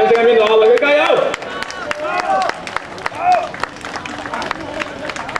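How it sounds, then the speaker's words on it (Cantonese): Audience applause at the IFSA Record-Breaker strongman event in Panyu: steady crowd clapping and cheering runs throughout, mostly under a loud announcer shouting over the noise. "為佢哋嘅精彩表演奉上你哋最熱烈嘅掌聲"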